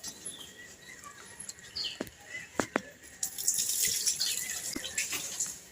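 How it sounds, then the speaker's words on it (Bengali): Boiled cow's milk pours into a wok on a lit stove, a soft splashing stream that starts faint and swells in the latter half, with a few light clinks before it. "কড়াইয়ের মধ্যে আমি 3 কাপ দুধ নিয়ে নেব।"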